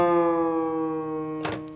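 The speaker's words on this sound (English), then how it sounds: "Or you can make it go down in pitch, like that direction." A bright, harmonically rich sustained note glides slowly downward in pitch for under two seconds, loud and even, with a short noisy click just before it fades.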